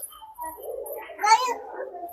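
Pigeons coo softly from the back side of an apartment building, with a fuller coo swelling in the middle and faint background voice-like murmur.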